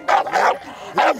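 A pocket bully dog barks close and loud in three quick, sharp yips, two in fast succession and one after a short pause, at an outdoor bully breed meetup.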